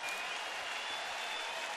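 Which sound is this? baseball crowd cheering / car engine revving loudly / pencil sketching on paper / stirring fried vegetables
baseball crowd cheering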